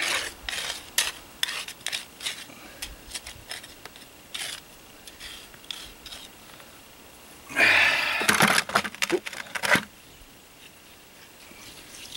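Wet concrete being stirred and smoothed in a footer for an off-grid cabin, heard as scattered scraping and scooping strokes with one denser, louder burst of grinding scrapes partway through.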